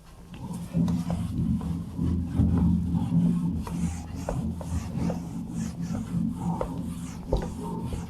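Writing rubbed off a board, a series of soft, close scrubbing strokes with a dry rasping texture, repeated over several seconds with no talking.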